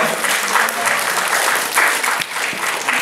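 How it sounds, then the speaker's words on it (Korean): A middle-school youth congregation applauds loudly during a church service, with a full, continuous burst of clapping filling the room for about three seconds and no voices standing out. "네, 박수 한번 크게 주세요."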